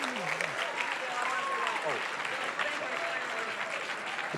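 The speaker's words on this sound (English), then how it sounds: "So a round of applause for all of you, and thank you for all of your support." An audience at a library's 25th anniversary evening event applauds in a steady, full round that lasts throughout. Voices are heard faintly over the clapping.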